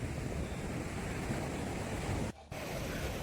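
Sea waves wash over a driftwood log on Fort Kochi beach, a continuous close roar of surf with wind buffeting the microphone and a brief drop near the end.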